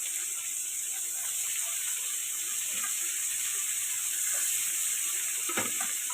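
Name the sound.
frying onions and potatoes in a pan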